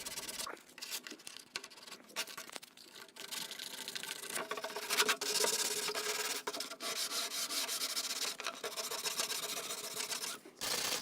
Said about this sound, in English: When sanding the bottom molding, just flush out all of your edges and sand down your seams.